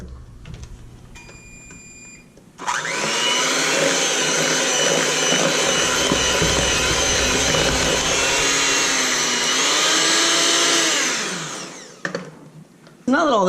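An electric mixer whirs steadily at high speed through oatmeal raisin cookie dough with vanilla added, a loud continuous drone starting abruptly and running about nine seconds before winding down, with a few clicks around it.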